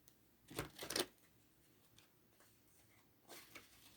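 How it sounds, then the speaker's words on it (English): Tarot cards are shuffled in two quick riffling bursts, followed by a softer shuffle near the end, close and quiet. "shuffle a couple more times"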